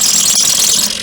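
A power drill bores a 1/4-inch hole into a handle, its high whirring bite loud and continuous through a brief burst with a momentary catch midway.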